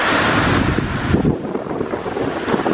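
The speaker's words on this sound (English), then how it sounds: "Holy crap, it's windy." Strong storm wind blowing outdoors, buffeting the microphone with a loud, continuous roaring rush that swells and eases without a break.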